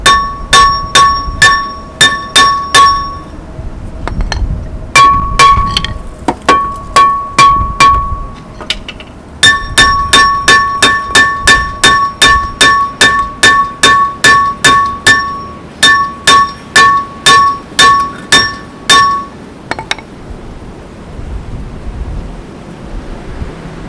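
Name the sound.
hammering on Jeep Grand Cherokee rear axle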